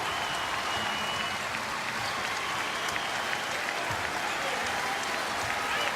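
A college basketball arena crowd at Villanova roars and applauds steadily in a dense, continuous wash of clapping and cheering, with an announcer's voice faintly underneath.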